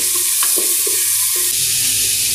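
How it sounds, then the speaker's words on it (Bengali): Thick-cut potato chunks fry in hot oil in a pan, a steady broad sizzle running throughout with a few brief stirring scrapes and clinks near the start, close up and without any talking. "আলুটা ভালো করে ভেজে নেব"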